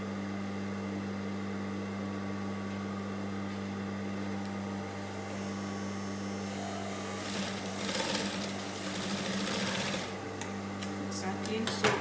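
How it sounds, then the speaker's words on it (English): A sewing machine stitches a shirt collar from one edge, giving a steady, close mechanical hum with a bright chattering run near the end; a voice speaks over it. "You're going to start sewing from this edge."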